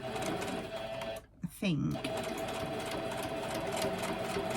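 A domestic sewing machine runs steadily, stitching over fabric scraps for a lip balm holder pocket with repeated passes. The mechanical hum continues through most of the clip, with a brief pause and restart, while a person speaks a few words over it.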